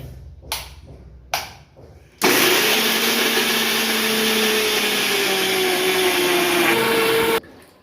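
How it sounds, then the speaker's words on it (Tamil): A kitchen mixer grinder runs steadily for about five seconds, grinding coconut with water. The loud, even whir is preceded by a few short knocks and clatters. "அதுக்கு மிக்சியை ஆன் பண்ணிவிடுவோம்."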